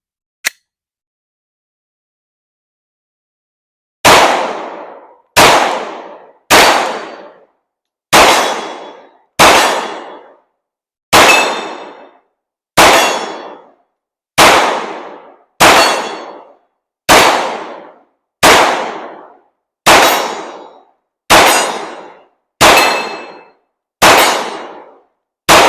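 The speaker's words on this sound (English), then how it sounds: "So I'm just going to take a step forwards and shoot at my steel targets for a bit." A Glock 19 Gen 5 pistol fires at steel targets in a steady string of loud shots, each followed by a ringing metallic clang and decaying tail, after a single early pop and a few seconds of quiet.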